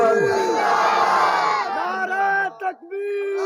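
A large crowd at a religious gathering chants slogans in unison, loud rising and falling shouted voices with a leader's call breaking through near the end, echoing in a big space.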